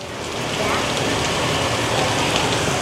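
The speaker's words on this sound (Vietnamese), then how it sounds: "Rồi mưa tiếp rồi." Steady, dense rain hisses evenly throughout, a continuous wash of drops on surfaces with no breaks, in Saigon.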